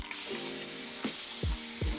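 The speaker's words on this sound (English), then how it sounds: "So I got a spray bottle, nice and pink." A pink plastic spray bottle mists water onto hair during home hair styling, a single long, close hissing spray followed by a few soft handling thumps, with no talk.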